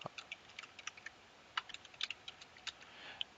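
Someone types on a computer keyboard with quiet, irregular clicks and small bursts of keystrokes, close by but soft against faint background hiss.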